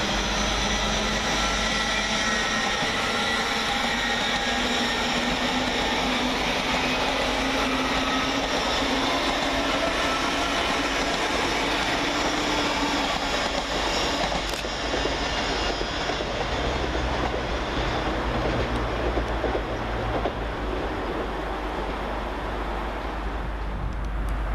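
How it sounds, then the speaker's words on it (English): An LNER class 801 train, 801225, pulls out of Peterborough station, a continuous rumble and hum of wheels and traction that holds steady and eases near the end, with no talking. "Whilst departing in the opposite direction is 801225, working the 1150 LNER service from Glasgow Central to"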